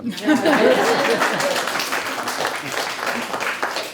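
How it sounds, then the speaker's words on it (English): Audience at a community talk on land and vineyards breaks into clapping, mixed with chatter and a few chuckles and voices early on, settling into a steady, moderately loud patter. "I'm pausing so y'all can clap."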